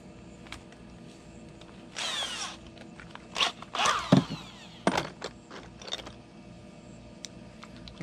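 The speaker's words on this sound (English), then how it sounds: "here's the drill. Get this screwed down quick." A power drill drives screws while a well pump is installed on an existing off-grid well, giving several short whirring bursts with pauses and clatter between them, close and moderately loud outdoors.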